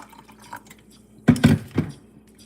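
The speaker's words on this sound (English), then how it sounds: "We'll add a little bit of water" Water poured into a watermelon-flavoured Pure Kick Hydrate drink mix, three short splashy pours in quick succession after a quiet start.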